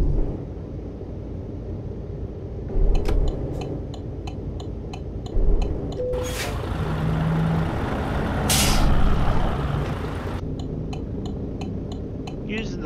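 A Volvo truck driving in American Truck Simulator, a steady engine drone with ticking indicator clicks and a couple of hissing air-brake bursts, with a voice talking now and then.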